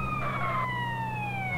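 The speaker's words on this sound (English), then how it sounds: "Held up by an ambulance." An ambulance siren in GTA San Andreas wails with a smooth, sustained tone that slowly falls in pitch, fairly close and clear, with no talk over it.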